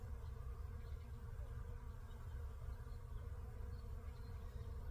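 Honeybees from an unwrapped winter hive hum in a continuous, dense low buzz, steady and close, with no talking.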